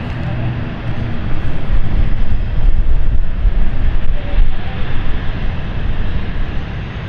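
A BA CityFlyer Embraer E190 jet at London City airport, a loud broadband engine roar that swells and holds steady, heard from nearby with no talk.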